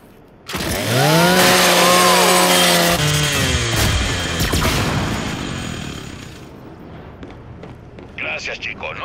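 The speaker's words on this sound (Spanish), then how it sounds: "Usa la motosierra de tu Lancer." The Lancer rifle's chainsaw bayonet revs up loudly in Gears of War 5, a whining, rising motor roar lasting several seconds before fading out amid grinding impact noises.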